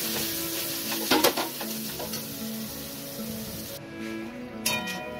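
Potatoes with salt are stirred in a frying pan, a continuous close sizzle with scraping spatula strokes and a few clinks against the pan, no talk.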